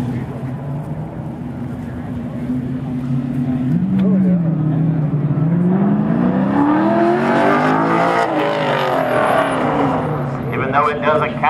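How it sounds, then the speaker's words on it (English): Race car lapping at a Goodguys Scottsdale event, a sustained engine roar rising and falling in pitch as it accelerates and passes, growing louder toward the middle, with people talking over it. "that's the fastest lap of the day right there"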